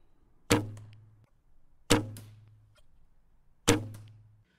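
Three shots from a cheap bow fitted with an old string and limb silencers, each a sharp twang with a short humming decay, evenly spaced and close.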